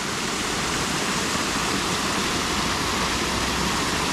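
Water gushes out through a breach in a pond dam, a steady loud broadband roar of rushing flow, unbroken and close, with no voices.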